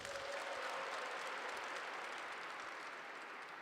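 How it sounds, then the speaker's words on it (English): An audience at a conference opening night in a cathedral breaks into sustained applause, dense clapping that holds steady and tapers slightly toward the end. "Clap your hands if you are here for the first time."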